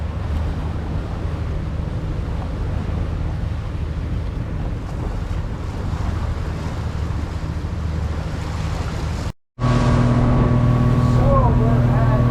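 A motorboat cruising at about 4,800 RPM and 39 km/h on flat water gives a loud, steady engine drone mixed with wind buffeting and water rush, broken briefly near the end before resuming.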